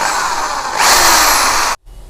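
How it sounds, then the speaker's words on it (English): A Black & Decker KR554RE drill runs with a steady whine that jumps higher and louder partway through, then cuts off abruptly, leaving a quiet tail. "So if you change it, suppose I am changing this, direction of the rotation will be changed."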